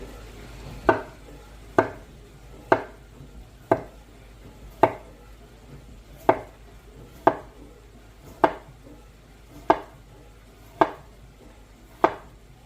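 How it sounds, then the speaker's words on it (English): A knife chops potatoes on a cutting board in about a dozen evenly spaced, crisp knocks roughly one second apart, close and clear with no talk. "I need to cut up the potatoes."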